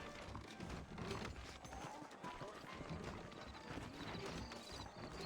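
Horses' hooves clip-clop steadily in a Red Dead Redemption western game scene, quick and close under background ambience, with brief speech-like sounds mixed in.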